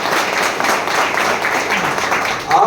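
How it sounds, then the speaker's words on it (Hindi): An audience breaks into loud, sustained applause, a dense wash of clapping that holds steady and swells again at the end. "एक बार जोरदार तालियां बजा दीजिए।"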